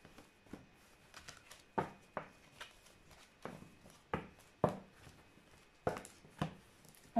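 Oracle cards being shuffled by hand, a series of crisp riffling bursts repeating irregularly about every half second, close and fairly quiet with no talking.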